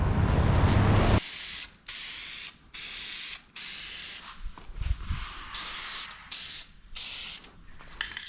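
A spray gun lays clear coat onto a Chevrolet C1500 work truck's front bumper in short, close bursts of loud hiss, each broken by a brief pause, with a faint clunk between passes.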